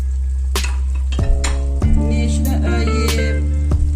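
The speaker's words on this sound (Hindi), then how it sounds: "अब इसमें हम चिकन डालेंगे" Pre-fried chicken tipped into a hot pan of spiced gravy for shahi chicken qorma, sizzling steadily with a few clanks of a spoon or utensil against the pan, loud and close.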